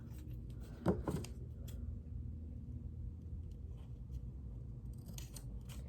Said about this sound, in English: Now we're gonna cut it.